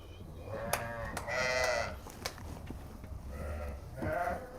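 A flock of sheep brought to a farm bleats in several drawn-out calls, some close and some farther off, with people talking quietly in the background.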